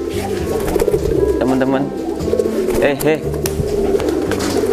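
Young male pigeon courting a newly paired mate, giving repeated close cooing calls in short rhythmic bursts over a busy background of other birds, with someone talking intermittently.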